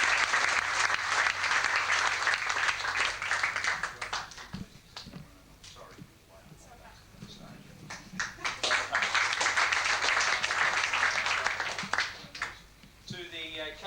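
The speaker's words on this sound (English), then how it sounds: "Round of applause." Audience applause at a Year 6 school graduation in 1995, a dense sustained clapping from a hall crowd that dips midway into scattered claps and then swells again before trailing off.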